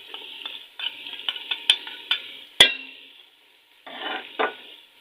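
Nihari chicken frying with nihari masala in a pan, a steady low sizzle broken by a series of sharp spoon scrapes and clinks, one loud knock near the middle, then a brief pause before stirring resumes.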